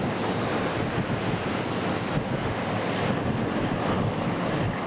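Rough open-sea waves churning around fishing boats in the Yellow Sea, a loud continuous roar of surf mixed with heavy wind buffeting the microphone.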